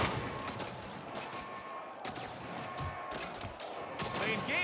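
Rapid gunfire bursts from a Saints Row firefight rattle almost continuously for a few seconds, dense and layered with game effects, with voices talking faintly underneath.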